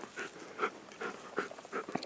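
A dog out on a shed antler hunt pants quickly and close by, rhythmic breathy huffs with a faint whimper near the end and no talking.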